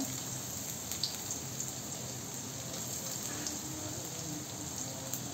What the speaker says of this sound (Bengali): এবার একটা কড়াইতে তেল দিলাম, রসুন কুচা, পেঁয়াজ কুচা